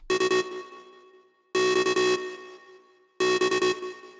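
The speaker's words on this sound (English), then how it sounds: "an extra lead that sounds like this" A bright synth lead layer from a modern trance track plays three short bursts of rapid, stuttering notes with a rich tone, each burst followed by a fading reverb tail, heard alone and loud.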